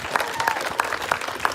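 A crowd claps for the organizers of a community mourning march and speeches held in front of a church in Venice Beach, with dense, steady applause and a few sharper nearby claps standing out.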